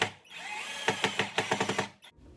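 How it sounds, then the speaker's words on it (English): A power drill drives a screw through a cabinet to fasten a handle pull, a whirring motor spin followed by a rapid series of about eight ratcheting bursts as the screw seats, close and fairly loud. "drill the screw all the way through once I'm holding the pull on the other side"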